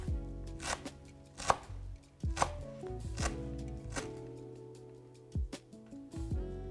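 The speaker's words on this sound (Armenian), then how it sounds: "Ամենակարևորը այստեղ սիրելիներս կանաչիները կտրատել շատ մանր," A knife finely chopping parsley and other herbs on a board, with rapid, uneven sharp taps close up and brief pauses between runs, no talking.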